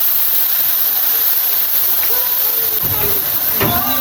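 Vinegar hits beetles cooking in a hot pan, raising a loud, continuous hiss of sizzling steam that holds steady, with a few brief bubbling crackles near the end.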